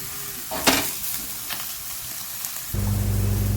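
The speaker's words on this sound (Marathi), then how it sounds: "टॅमॅटो आपले भाजत आहेत पहा. गॅस आपण मोठाच ठेवलेला आहे." Tomatoes roasting on a hot iron pan over high gas, giving a steady close sizzle with a couple of sharp spatula scrapes, then a louder, rougher hiss near the end.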